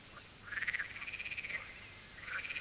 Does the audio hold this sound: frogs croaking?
yes